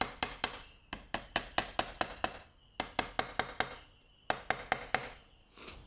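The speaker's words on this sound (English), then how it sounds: "Light tapping the sides." A hammer lightly taps fret wire into the slots of a guitar fretboard during a refret, about twenty sharp, close knocks in quick bursts of several taps separated by short pauses, with no voices.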